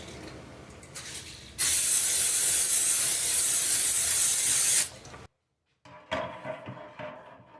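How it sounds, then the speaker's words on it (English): A single sustained hiss of olive oil spray onto a pan lasts about three seconds, loud, framed by quiet handling clicks and clatter before and after. "I'm going to spray my pan with this olive oil spray."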